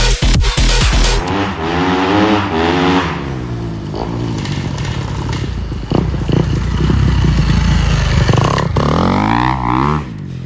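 A Kawasaki KX 250 dirt bike, a 250cc off-road machine, runs loud and close, with rising and falling revs and a steady engine drone throughout.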